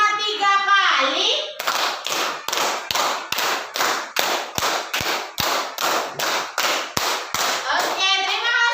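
A group of children in a classroom claps in a steady, repeated rhythm of about a dozen sharp, evenly spaced claps, with excited young voices before and after the clapping.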